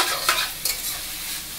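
Capsicum pieces lightly salted and stir-fried in a pan, with a steady sizzle and scraping spatula strokes that rise in short bursts over a continuous frying hiss.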